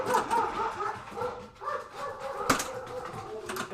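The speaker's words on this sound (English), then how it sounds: "Dogs are going crazy." Several dogs barking and yipping excitedly at a moderate distance, a few sharp barks rising over a busy indoor background with faint bird-like chirps.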